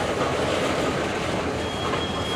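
Norfolk Southern local mixed freight train rolling steadily past up close, a dense continuous rumble of railcars with a thin high wheel squeal rising near the end.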